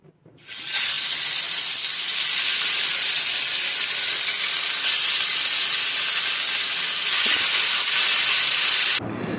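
Pieces of bhola fish rubbed with salt and turmeric hit hot oil and fry, a sudden bright sizzle that jumps in loud and stays steady and hissing up close for several seconds, with no talk.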